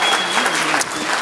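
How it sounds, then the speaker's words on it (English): A church congregation applauds first-time guests with a brief, loud burst of clapping that fills the room. "Let's give our first-time guests a great big round of applause."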